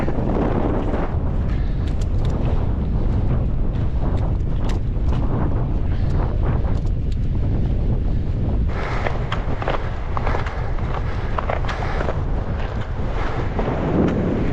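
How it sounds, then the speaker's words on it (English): Strong wind on Crag Hill in the Lake District buffets the microphone with a loud, constant low roar and gusty rumbling, no other sounds standing out. "Oh, it's windy"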